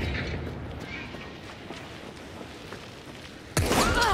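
An explosion erupts suddenly in the online shooter game Hunt: Showdown, a loud, close broadband blast that cuts in near the end after a low rumbling game ambience.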